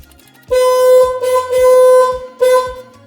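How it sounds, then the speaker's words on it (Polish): A car horn sounds from a CANlock anti-theft system, blaring in three sustained blasts separated by short pauses, loud and close. "Będzie przez chwilę klakson"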